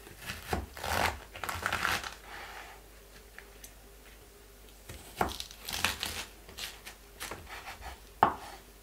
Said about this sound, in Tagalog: hatiin po natin to sa gitna